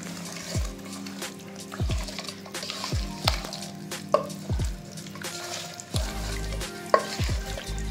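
Chicken masala mixture stirred in an oil-filled pan, a sequence of scraping spoon strokes repeating about every second over a soft steady sizzle, close and fairly loud, with no talking.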